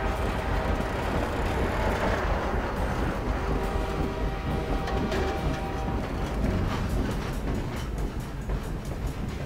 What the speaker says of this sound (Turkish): Bayağı tren.